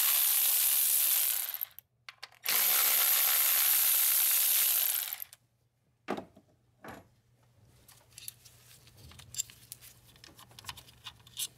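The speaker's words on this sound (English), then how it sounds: "So now we're gonna remove these 10mm bolts" A ratchet backs out 10mm bolts holding the ignition coils on a Toyota Highlander engine during a valve cover gasket job. Two long bursts of dense ratcheting are followed by scattered sharp clicks and light metallic taps.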